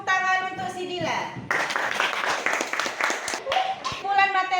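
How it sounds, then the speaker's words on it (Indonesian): Applause for a student breaks out in a classroom, a brief burst of clapping from several people, framed by a voice speaking before and after it. "Beri dulu tepuk tangan untuk si Dilan"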